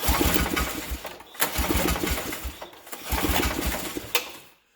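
An 8hp Briggs and Stratton engine on a Snapper rear-engine riding mower runs after starting on choke, a loud, uneven buzzing putter that surges and dips with a few sharp pops, heard alone.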